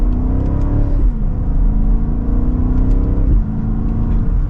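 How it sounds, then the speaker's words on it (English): A 2025 BMW X7 M60i large three-row SUV accelerates from second gear, its engine and exhaust rising in a loud, throaty drone, with a brief dip at an upshift before climbing again. "Hopefully you can hear that exhaust."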